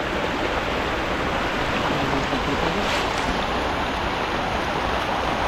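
Strong floodwater current rushing through a flooded former forest, a steady loud broadband roar of churning water that continues unbroken with no voices.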